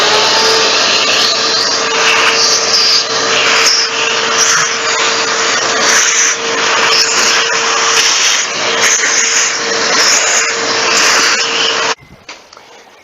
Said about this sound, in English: suction out some of that sawdust